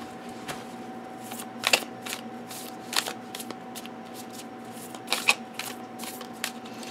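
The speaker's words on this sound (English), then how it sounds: "I've given it a good floor shuffle." Tarot-size oracle cards are shuffled in quick riffling bursts, soft and close, over a steady low hum.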